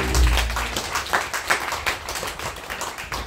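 A church congregation claps together at a French-language service, a short burst of dense, overlapping hand claps close by that thins slightly toward the end.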